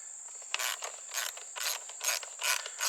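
A screw on a swimming pool light fixture is turned in short repeated strokes, each making a gritty ratcheting scrape, close and fairly quiet, about five times in a steady rhythm.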